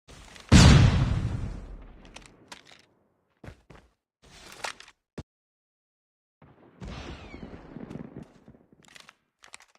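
A flashbang bursts loudly near the start of a video game match, its blast decaying over a second or two, followed by scattered sharp gunshots and a later stretch of clattering action.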